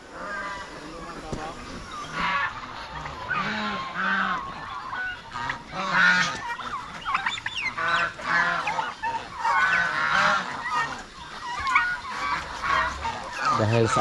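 Flock of farm turkeys gobbling and honking in a yard, repeated loud bursts close by, with someone talking over them.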